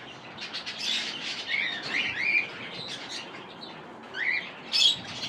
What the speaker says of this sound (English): there's an aviary on the way. Let's go look at some birds